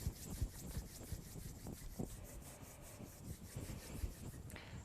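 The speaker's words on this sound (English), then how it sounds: "rubbing them together a little bit." Palms rubbing together during a yoga kriya, giving a soft, continuous dry friction with small repeated strokes, faint and close, with no talking.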